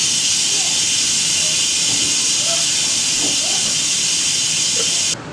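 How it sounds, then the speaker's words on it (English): An Instant Pot's pressure vent releases steam in a loud, steady hiss that runs unbroken for about five seconds after a beef stroganoff has cooked, then cuts off abruptly. "I'm going to go ahead and pop this vent and let that pressure go down."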